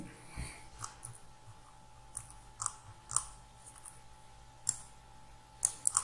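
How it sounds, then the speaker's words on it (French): A computer mouse clicks several times while working in SolidWorks, sharp close ticks scattered over a quiet room hum with a steady faint tone and soft breathing; no speech. "Je clique sur OK."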